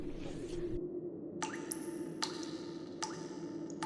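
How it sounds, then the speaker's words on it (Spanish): Light water drips fall one at a time, with about four distinct, close drops spaced under a second apart against a quiet room background. "un ligero, pero constante goteo de agua"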